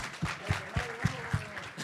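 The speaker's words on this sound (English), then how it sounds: "There's a round of applause." An audience at a technology entrepreneurship talk claps in a short burst of about six distinct, evenly spaced claps, close and fairly quiet.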